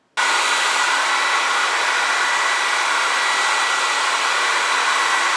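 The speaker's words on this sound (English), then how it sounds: "If you decide to use a blow dryer" A blow dryer switches on abruptly and runs at a constant, close, loud whooshing hum for several seconds, with no talking over it.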